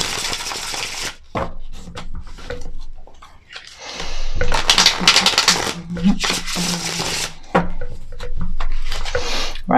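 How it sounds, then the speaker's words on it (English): A tarot deck is shuffled by hand in quick, irregular riffles and slaps of cards, close and fairly loud, with pauses between bursts. "Just give these a quick shuffle."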